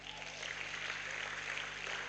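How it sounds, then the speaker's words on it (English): Audience clapping steadily at a University of Benin matriculation ceremony, a dense, continuous wash of applause filling the hall at moderate distance with no voices rising above it. "so better look at him very well and clap for him"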